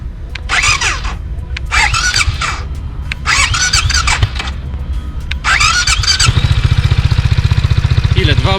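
BMW C 400 scooter engine, 2021 model, starting with several loud squealing starter cranks in bursts before catching, then settling into a steady, close idle.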